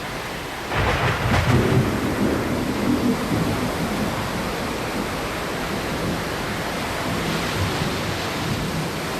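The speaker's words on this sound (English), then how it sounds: "Ferocious storms at sea." A ferocious storm at sea off the Pembrokeshire coast, with a heavy roll of thunder near the start fading into steady hissing rain and surf that fills the whole stretch.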